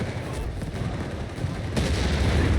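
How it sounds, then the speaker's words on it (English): Rapid bursts of gunfire and artillery booms from a Company of Heroes 3 battle, a dense, continuous barrage that grows louder and heavier toward the end, with no talk over it. "Series of shots there."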